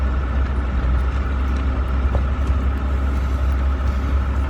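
A truck rolls down an old back road, its engine giving a steady low drone and a rumble from the road, heard from inside the cab with no talk.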